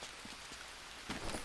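Rain falling in the jungle of the survival game Green Hell, a faint steady patter and hiss with a slightly louder swell near the end, heard alone.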